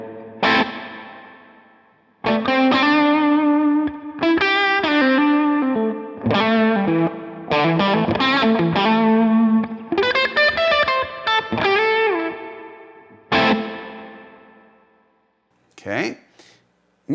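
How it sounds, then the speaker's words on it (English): Line 6 POD Go Spring 63 spring reverb on electric guitar, with distorted chords and single-note phrases played loud in bursts across several passages, each ringing out with a reverb tail before a short final strum. "here is the sound of the Podgo Spring Verb with these settings you see up on screen"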